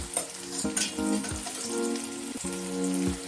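Cumin and turmeric powder frying in a pan, a loud close sizzle with crackling bursts and stirring scrapes, with no one speaking over it.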